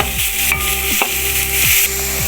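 Vegetables fry in a pan for a chicken macaroni dish, giving a steady, fairly loud sizzle with a couple of utensil scrapes and knocks, and no talking.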